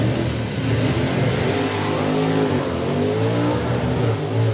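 A drag racing pickup truck accelerates hard down the strip, engine roaring loud and steady with rising and dropping pitch as the driver works through each gear of a four-speed manual.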